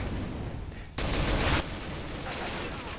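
Gunfire in Counter-Strike: Global Offensive: a loud, dense burst of shots lasting about half a second, standing out over an ongoing steady background of game noise.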